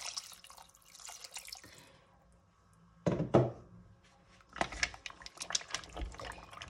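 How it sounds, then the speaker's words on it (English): Water poured into a pot of Argentine beef stew with pasta, a close splashing and dripping pour that rises in bursts after a quieter start, with a dull thunk of the pot partway through. "So we're going to be adding a bit more water to"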